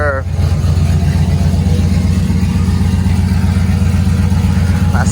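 A truck engine rumbles loudly and steadily up close, idling with a deep, even throb.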